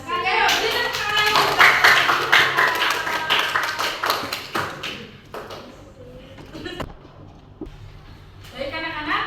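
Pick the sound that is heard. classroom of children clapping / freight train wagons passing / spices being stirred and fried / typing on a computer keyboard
classroom of children clapping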